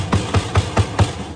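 Five evenly spaced snare drum hits with a broken bottom head, dull and boxy without any snare buzz, struck close and fairly loud in a slow, steady rhythm.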